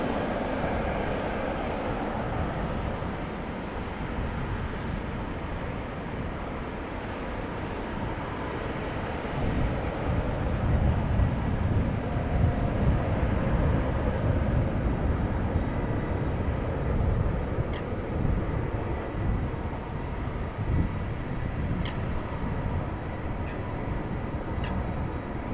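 A jet airliner takes off from a runway at Amsterdam Schiphol Airport, a steady broadband engine roar that holds at constant loudness and swells slightly as it climbs away, with no talk.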